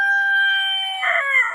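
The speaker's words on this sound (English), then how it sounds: "That was him that just crowed." A rooster crows once, close and loud, holding a steady, drawn-out tone that rises and cracks into a rough finish near the end.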